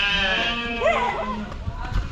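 A baby goat gives a short rising bleat near the middle, heard close amid people talking and moving around it.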